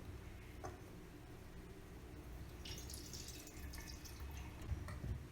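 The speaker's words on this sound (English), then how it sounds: "I'm going to pour it into the glass container now." Homemade almond milk poured from a mug into a glass bottle, a soft continuous trickle and splash of liquid running steadily, fairly quiet and close, with no talking.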